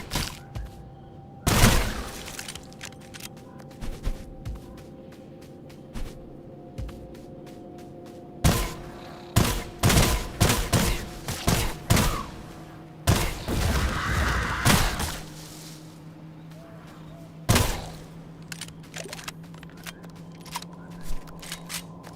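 Gunshots ring out from a heavy-hitting weapon in the extraction shooter Sulfur, loud sharp cracks fired singly and in quick bursts with pauses between, some shots clustered tightly, over a quiet game backdrop.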